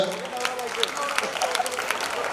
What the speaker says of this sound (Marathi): आवीजी कांबळे उज्ज्वलताई कांबळे यांच्यासाठी जोरात टाळ्या होऊन जाऊ द्या